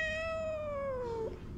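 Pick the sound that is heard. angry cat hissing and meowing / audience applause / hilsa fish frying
angry cat hissing and meowing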